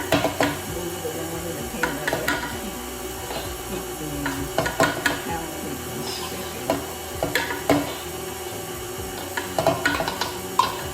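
Pound cake batter with flour is mixed around in a pan, giving a steady close scraping and knocking of a utensil against the pan over a continuous background hum.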